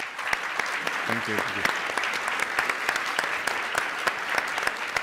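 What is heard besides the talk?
audience applause at a conference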